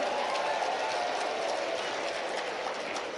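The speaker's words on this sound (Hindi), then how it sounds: "थोड़ी ताली बाकी के लिए भी बजा दो यार," An audience in a hall gives a steady, fairly distant round of clapping, dense and even throughout, with no talking over it.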